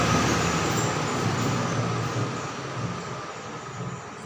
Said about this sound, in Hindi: बगल से गाड़ी जा रही है इसलिए उसको आवाज़ आ रही है।